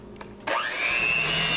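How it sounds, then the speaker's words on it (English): A blender whirs up to speed after a brief click, blending peanut butter pie filling in a steady, loud motor drone with a rising whine that holds through to the end. "And now just blend this together real good."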